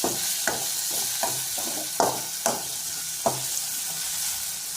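Vegetables being sautéed in a pan for a Malayalam-style kottu, a steady sizzle with repeated clinks and scrapes of a stirring spoon at an irregular rhythm, close up and with no talking.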